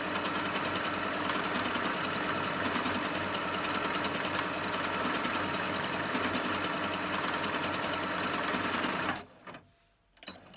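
A Singer 8500Q sewing machine runs a decorative heart stitch along a quilt border, a fast, even mechanical chatter that continues steadily, then stops abruptly near the end, leaving a brief quiet before a small clunk.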